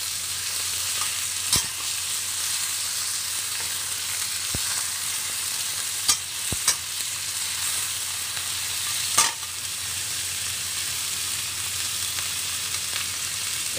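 Chicken drumsticks sautéing in a pan until browned for creamy pineapple chicken, giving a constant loud crackling sizzle with a few sharp taps and knocks from a utensil, no one speaking.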